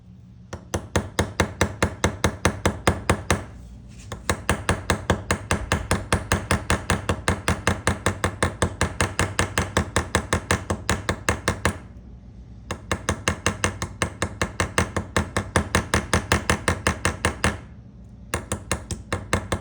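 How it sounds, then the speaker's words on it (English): A hammer peens over a pin on an old Camillus Barlow pocketknife handle: rapid, evenly spaced metallic taps in long runs, broken by two short pauses, close and fairly loud. "and then we'll peen that side over."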